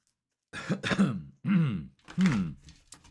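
A person clears their throat and coughs in three or four close, distinct bursts after a brief silence, each harsh and rasping, with short pauses between them.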